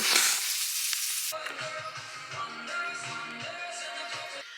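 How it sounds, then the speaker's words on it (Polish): Loud, steady sizzling and crackling of salmon frying in a pan, with a sharp hiss at the start settling into continuous spattering. "smażę laksika"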